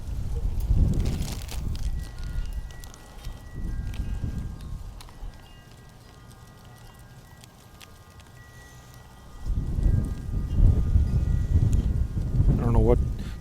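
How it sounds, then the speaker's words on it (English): Strong gusty wind blows outdoors where a remote-control truck is being tested, pounding the microphone in low rumbling bursts that ease off midway and then return hard. "it is extremely windy out here right now."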